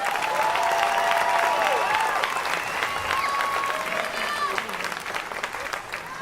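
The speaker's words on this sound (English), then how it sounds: "Give another round of applause." Graduation ceremony audience applauding the students, a full crowd of clapping that holds loud for several seconds with scattered cheers and whistles, easing slightly toward the end.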